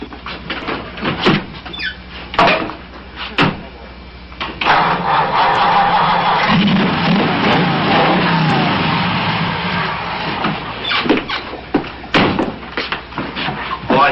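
A 1950s hot rod with chrome-plated manifolds and twin carburetors cranks with a few sharp bursts, then fires up and runs in a rough, revving rumble close by before cutting back to intermittent bursts.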